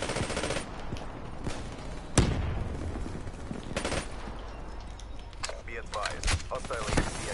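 Rapid VMP submachine gun fire in a video game, loud, close bursts repeating throughout with sharp single cracks, while players talk over it.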